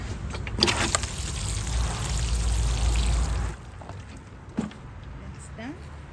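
Water is poured into a terracotta pot holding crassula cuttings, a steady close splash lasting about three seconds before dropping to a quieter room with a few faint knocks.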